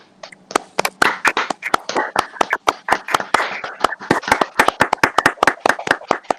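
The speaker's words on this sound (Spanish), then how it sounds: "abrimos los micros, ¿vale? Le damos un aplauso" Webinar participants with open microphones clap for a masterclass speaker, a scattered patchwork of distinct, close, uneven hand claps from several people overlapping rather than blending into a wash.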